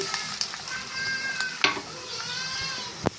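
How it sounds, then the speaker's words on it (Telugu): Chopped onions fry in hot oil with a crackling sizzle, broken by sharp clinks of stirring and a high, whining tone that runs through the sizzle. No one speaks. "ఆయిల్ అయితే వేడైందండి ఇప్పుడు దీంట్లో మనం కట్ చేసుకున్న ఉల్లిపాయ వేసేద్దామండి"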